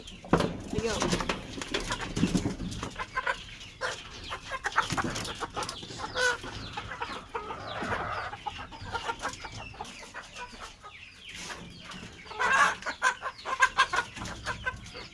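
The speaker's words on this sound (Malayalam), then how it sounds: "നമ്മുടെ അടുത്ത് ഇതുപോലെ കുറേ കോഴിക്കുട്ടികളുണ്ട് വെറൈറ്റി" Chickens and chicks on a small farm cluck and chirp nearby in a busy, uneven stream, mixed with scratchy rustling and bursts of noise.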